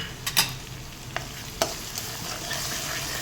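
Tomatoes with asafoetida, turmeric and salt stirred in a hot pan, a few sharp scraping clinks of the spoon over a soft, steady sizzle of frying, close and clear with no talking.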